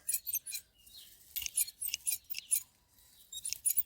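Small scissors snip at ornamental grass in a garden, a quick series of crisp, close metallic cuts in uneven bursts with short pauses between them.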